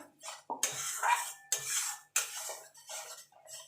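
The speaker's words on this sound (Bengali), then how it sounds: "সর্ষেটা যে বেটে রেখেছিলাম সেটা দিয়ে দেবো দিয়ে ভালো করে কষিয়ে নেবো" Mustard paste with spices stirred in a hot pan for hilsa fish curry gives several close, loud scraping and clattering strokes in uneven bursts, with short pauses between them.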